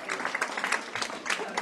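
Applause from a children's music academy audience at a junior game show in Italy, a short burst of dense clapping over a steady crowd wash.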